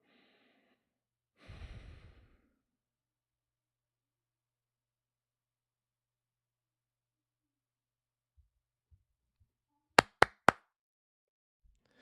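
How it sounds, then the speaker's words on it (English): A single deep, close breath rises and fades in near silence, followed later by a few soft taps and three sharp claps in quick succession. "take deep breaths."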